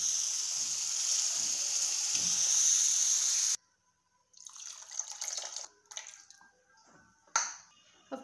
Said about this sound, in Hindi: जिस कप से हमने सूजी और ऑयल लिया था उसी कप से इसमें 3 कप पानी डालेंगे